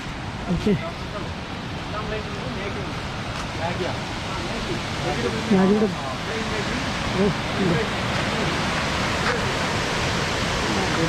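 A waterfall beside a tea shop in Munnar's tea-estate country gives a steady, full broadband rush throughout, with people talking over it.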